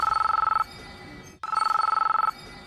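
A telephone rings in two clear bursts of rapid electronic trilling, separated by a short pause, loud and close with no voices.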